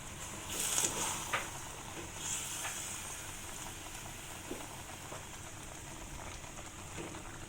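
Beef pieces frying in spice paste of candlenut, pepper, galangal, lemongrass and bay leaf for rendang, giving a steady soft sizzle throughout with a few faint clinks of a utensil early on.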